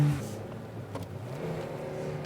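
A Toyota Yaris and a Daihatsu Mira race, with a small engine revving and droning at moderate level, its pitch climbing steadily, while light road noise runs underneath.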